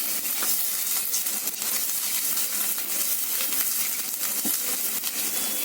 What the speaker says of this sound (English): I'm going to add the onion, and I'm going to let the onion really sizzle